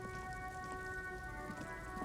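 Steady rain patters in the video game Disco Elysium, a street scene in a rainy traffic jam, with a constant even hiss over a faint low tonal hum.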